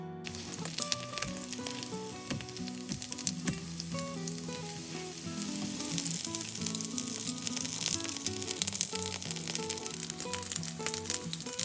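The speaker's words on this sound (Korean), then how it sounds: "앞뒤로 노릇노릇 붙여주시면 됩니다" Shrimp and vegetable pancakes fry in an oiled pan with a steady, close sizzle and crackle that thickens toward the end, while soft background music plays underneath.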